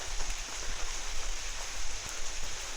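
Steady, close rain at a cave in Vang Vieng, a dense continuous patter with no voices.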